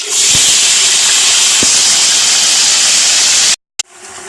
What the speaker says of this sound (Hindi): उसी ऑयल के अंदर हम आलू शामिल करेंगे